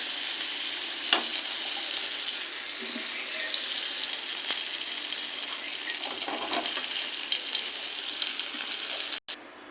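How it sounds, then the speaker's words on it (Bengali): Shrimp frying lightly in oil in a home kitchen, a soft, steady sizzle running throughout with a few faint clicks and utensil knocks, fairly quiet and without speech. "হালকা করে ভেজে নিয়েছি চিংড়ি মাছ বেশি ভাজলে শক্ত হয়ে যাবে"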